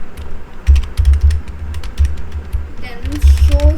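Close, uneven clicks of typing on a computer keyboard come in short bursts, with quieter gaps between them, mixed with some mechanical clatter.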